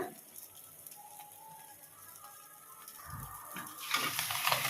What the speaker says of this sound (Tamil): பெப்பர் போட்டுட்டு நல்லா வந்து திருப்பி விட்டுக்கலாம்